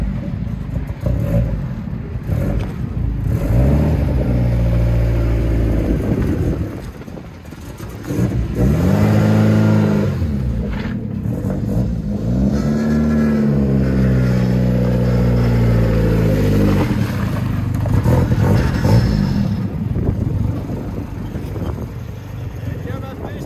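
A swapped-in 5-litre Mercedes V8 fires up in a BMW E36, running and revving with a rough, throbbing idle that rises and falls through the clip while people talk over it nearby.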